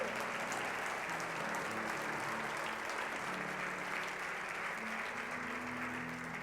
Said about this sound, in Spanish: Va a aplaudir, aplauda.